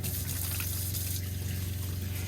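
Warm water runs steadily from a sink tap inside a van, giving a continuous, close gushing rush with a low pump-like hum beneath and no talking.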